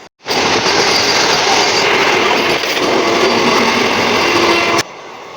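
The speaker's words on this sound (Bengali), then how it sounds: "দেখো বন্দে ভারতকে পিছনে ফেলে আমরা কিভাবে হুড় হুড় করে এগিয়ে যাচ্ছি বর্ধমানের দিকে" A passenger train rumbles along the tracks at speed toward Bardhaman, a loud, steady roar with faint wheel clatter, cutting off abruptly near the end.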